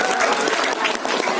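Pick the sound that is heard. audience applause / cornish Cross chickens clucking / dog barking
audience applause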